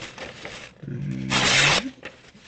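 A We Banter folding knife slices through material in a quick cut test, a close, rough scraping rasp that peaks in a single harsh stroke about a second long.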